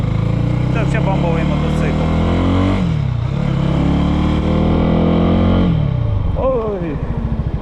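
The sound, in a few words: Lifan motorcycle engine running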